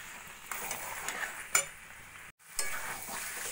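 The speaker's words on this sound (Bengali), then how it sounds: "এইভাবে নাড়া দিতে দিতে প্রায় 5-7 মিনিট মতো কষিয়ে নিয়েছি।" Mutton fries in a pan for curry while a spoon stirs it, giving soft sizzling with scraping and a few clinks, quiet and close, with a short gap before the stirring resumes.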